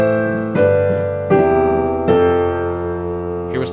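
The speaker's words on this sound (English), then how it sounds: "you can switch over to the second model, and that's going to be the Steinway" Steinway grand piano sample played on a Nord Stage 2 keyboard, with four loud, close notes or chords struck about once every three-quarters of a second, each ringing and decaying with sustain.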